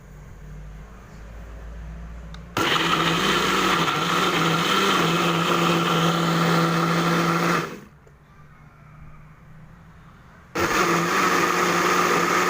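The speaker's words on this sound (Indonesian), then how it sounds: "saya biasanya menghaluskan bumbu-bumbu hanya dengan blender" Kitchen blender grinding shallots and garlic into a spice paste, whirring loudly in two long bursts separated by a quiet pause, with a softer background hum before the first run.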